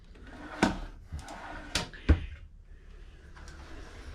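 Drawers and cabinetry in a Kropf Elevation 5-101 tiny house park model slide and bump shut in a few sharp, close knocks separated by quiet room tone.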